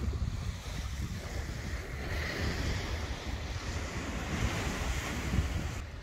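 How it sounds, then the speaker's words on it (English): Ocean surf washing onto the beach at Kill Devil Hills, North Carolina, a steady broad roar of breaking waves with gusty wind buffeting the microphone, continuous and fairly close throughout, with no voices. "Let me show you the ocean."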